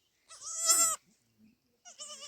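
A family's goat bleats close by, loud and wavering, and then a second shorter bleat follows after a brief quiet gap.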